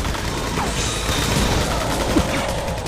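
Movie gunfire from a thriller about giant spiders: a rapid crackling fusillade of shots blending into a noisy action din, loud and close, with a faint shout.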